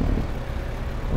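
Low, steady engine drone of an old tractor straining as it hauls a heavy Wilson Pacesetter trailer across a Saskatchewan farm during harvest in a farming game, loud and continuous with no talk.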